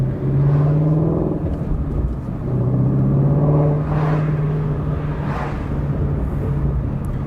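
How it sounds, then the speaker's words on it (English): A Ford Mustang Shelby GT350 engine climbs and drops through revs while driving, a loud, close, smooth mechanical drone that swells, eases and builds again without speech. "This engine is so easy to rev match"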